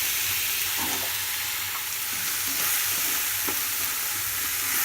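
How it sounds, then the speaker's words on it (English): Green peas sautéing in a pan over a low flame, giving a soft, steady sizzle with a few light scrapes and stirring knocks from a spoon. "And saute it for some time"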